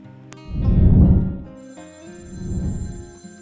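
A telephone bell rings loudly in two long bursts with a short gap between them, with no talk over it.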